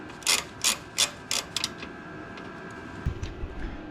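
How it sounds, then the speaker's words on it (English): Parking brake braces on an Autozam AZ-1 are tightened by hand, several sharp, close ratchet clicks in quick bursts at first, then fainter ticks and light metallic handling over a low background hum. "Tighten the parking brake braces back on."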